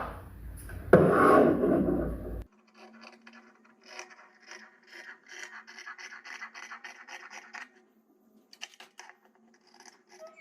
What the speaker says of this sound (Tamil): இதை அப்படியே வந்து நம்ம கட் பண்ணிக்கலாம்